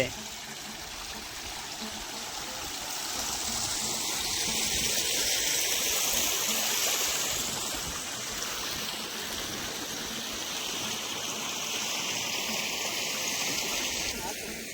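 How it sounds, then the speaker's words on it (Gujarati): A steady rush of water from an electric farm water pump irrigating a wheat field runs throughout, loud and constant, over a low mechanical hum, with faint talk mixed in. "હાલો મોટર ચાલુ કરવી"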